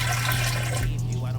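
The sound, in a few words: pouring warm water into KitchenAid stand mixer bowl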